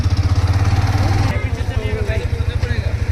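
A motorcycle idles close by in a village, a steady, low, throbbing engine pulse that stays even throughout while voices come and go nearby.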